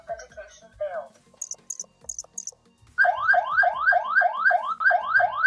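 A Tuya Zigbee smart lock with a fingerprint reader sounds its alarm after repeated failed fingerprint attempts: a few short high beeps, then a loud, continuous siren of rising whoops that cycle steadily to the end. A brief voice comes at the start.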